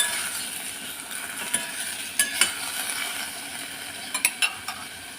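A spoon stirs tofu in a pot of soup, giving a few faint scraping clinks at irregular moments over a steady low background hiss, with no talking.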